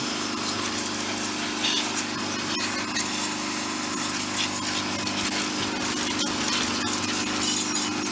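A high-pressure washer blasts water while detailing a motorcycle, giving a loud, continuous hissing spray with rough scouring fluctuations and no speech.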